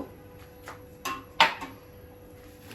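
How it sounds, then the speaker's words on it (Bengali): A spoon scrapes and knocks against a pot of rice being stirred for payesh, a milk rice pudding, with a few sharp taps close by against a quiet kitchen background and no talk. "দিয়ে আমি একটু নাড়াচাড়া করব যাতে লেগে না যায়"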